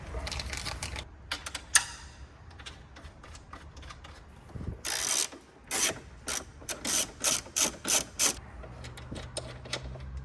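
Repeated clicking of a ratchet tightening bolts on a carbon fiber strut brace on a 2025 BMW M2 LCI, the short bursts quickening into a steady, close run of clicks.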